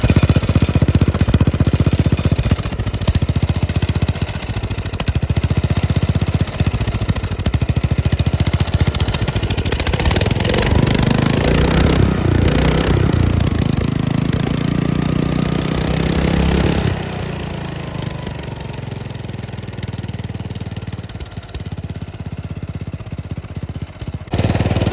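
A flooded engine on a project bed rail runs rough and loud nearby, sputtering and rattling unevenly for a sustained stretch before settling somewhat quieter near the end.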